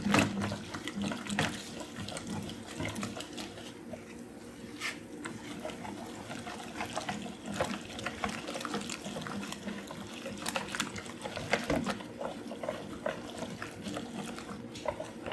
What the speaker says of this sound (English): this is where we will take our whisk and mix it up